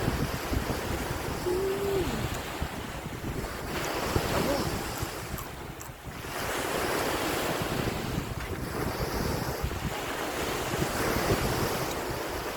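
Wind buffets the microphone over a continuous wash of breaking sea waves at Jomtien Beach, Thailand, with a brief lull midway before the surf and gusts return.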